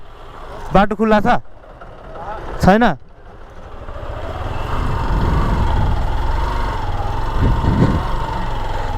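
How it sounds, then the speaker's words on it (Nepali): A tractor engine rumbles in on a muddy road and grows steadily louder as it approaches, after two short bursts of talk; a voice speaks briefly over the engine near the end. "ट्र्याक्टर आइरहेको छ"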